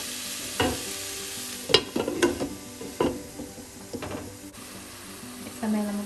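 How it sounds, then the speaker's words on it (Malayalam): Chicken mappas curry masala being sautéed on a low flame, with a soft steady sizzle and several sharp scraping stirs of a spoon against the pan, close by. "ലോ ഫ്ലെയിം ആക്കി വഴറ്റുക."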